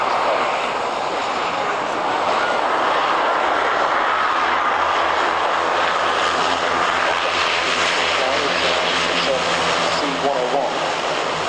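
A CASA C-101 Spanish jet trainer at an air show at RIAT Fairford makes a loud, continuous engine roar that builds and stays strong, with a commentator's voice faintly mixed in over it.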